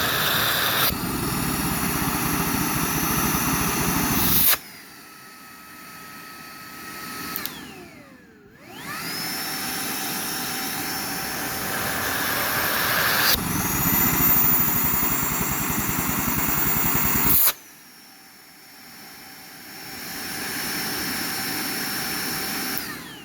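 A Nacecare RBV 150NX cordless backpack vacuum running on low gives a loud, steady motor whine, cutting off twice into near silence and then spinning back up.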